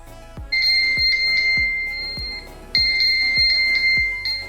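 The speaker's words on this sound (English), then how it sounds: "Just locate from your band and the phone starts ringing." Phone ringing after being located from a Mi Band 3: a repeating electronic ringtone in two bursts of bright beeping tones over a regular low thumping beat, close and clear with no talk.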